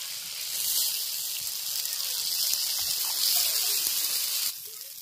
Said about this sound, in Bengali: এবার এর মধ্যে জল দিয়ে দেবো, কারণ সর্ষে বাটা বেশি ভাজলে কিন্তু তেতো লাগবে।